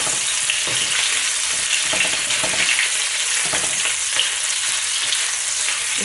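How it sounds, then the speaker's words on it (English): Shrimp stir-frying in a pan gives a loud, continuous hissing sizzle up close, with faint stirring scrapes running through it and no voices. "Stir a little bit until shrimp turn yellow, orange or yellow."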